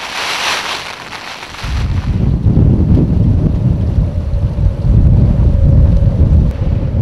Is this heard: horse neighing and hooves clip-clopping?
no